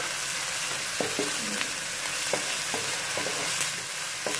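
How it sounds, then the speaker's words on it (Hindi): Ginger garlic paste sizzles with onions in a hot pan for okra masala, a steady close frying hiss broken by several soft clicks of stirring, with no voice. "इसमें मैं अब अदरक लहसुन का पेस्ट डालूंगी, एक मिनट तक इसको पकाऊंगी।"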